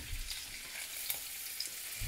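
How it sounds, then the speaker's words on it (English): Scallops frying in butter in a pan while being basted, a steady close sizzle with soft spoon-stirring sounds, no voices. "I'm going to get some butter into my pan. I'm going to start basting these beautiful scallops."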